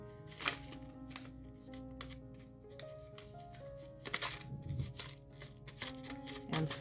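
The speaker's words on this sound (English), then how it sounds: "Then I'm going to fold it in" Paper seed packet being folded and sealed, soft crinkles, taps and papery rustles scattered irregularly, close and quiet.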